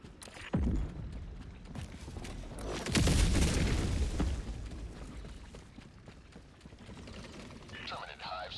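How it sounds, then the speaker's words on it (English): An orbital strike hits in a sci-fi video game, with a sharp boom followed by a heavier, rumbling explosion that swells and slowly fades, and voices faintly present in the mix. "Firing orbital strike."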